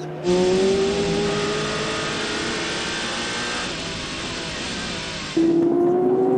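Endurance race cars scream past at the 6 Hours of Fuji, one of them a Peugeot. A loud, continuous engine roar shifts pitch as one car passes, and a second car surges in near the end.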